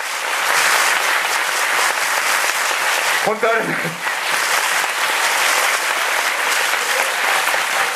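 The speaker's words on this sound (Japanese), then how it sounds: "その人たちに、また改めてちょっと大きな拍手を送ってください。" Sustained applause from a film-screening audience during a post-screening stage greeting for Rurouni Kenshin: The Legend Ends, loud and steady throughout, with someone speaking briefly over the clapping.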